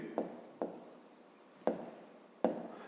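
Pen or marker writing out the angle names of a triangle for a fifth-grade math exercise, four short scratchy stroke bursts in an uneven rhythm, close and fairly quiet, no talking.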